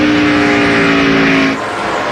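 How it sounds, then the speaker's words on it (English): A 2002 NASCAR stock car engine roars loudly at steady high revs, then the driver lifts off the throttle and the tone drops abruptly to a lower, quieter drone near the end. "You can hear Ward Burton just roll out of that gas"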